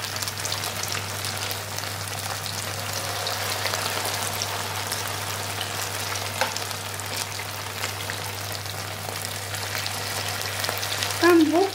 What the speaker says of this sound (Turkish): Ben bol tavada bol yağda kızartmayı tercih ettim